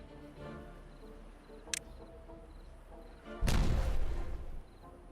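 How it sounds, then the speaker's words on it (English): An explosion goes off in the Spillage map of a building game played on hard mode, a loud, broad, rumbling blast lasting about a second, preceded by a sharp crack and faint background game sounds. "the random explosion sounds with nothing. I'm not exploding anything because they do it themselves"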